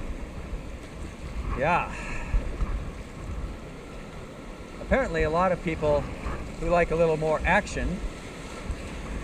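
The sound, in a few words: river rapids on the Wenatchee River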